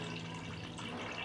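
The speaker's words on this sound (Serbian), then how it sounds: "Sipat ću vodu do visine poklopca." Water runs steadily from a tap into a cooking pot holding glass jars set on a cloth, a continuous filling rush with no voices.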